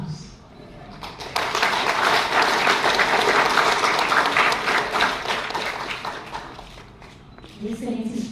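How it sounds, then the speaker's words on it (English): A hall audience breaks into applause at a government and JICA ceremony, the clapping swelling after a brief quiet start, holding loud and dense for several seconds, then thinning as a voice speaks near the end. "please give a big round of applause."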